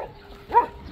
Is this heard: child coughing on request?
no